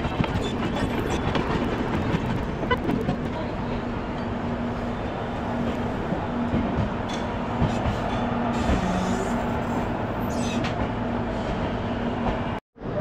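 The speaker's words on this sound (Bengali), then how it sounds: "তো এখন আমি এসে পৌঁছালাম পণ্ডিত দীনদয়াল উপাধ্যায় স্টেশনে।" The Amritsar Mail passenger train pulls into Pandit Deen Dayal Upadhyay station, a continuous loud rolling rumble with rhythmic wheel clatter over rail joints and a faint steady tone, cutting off abruptly at the end.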